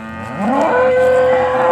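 A single drawn-out moo from a cow at a cattle market, rising in pitch and holding steady, loud and close by.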